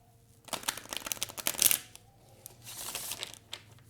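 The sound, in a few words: tarot cards being shuffled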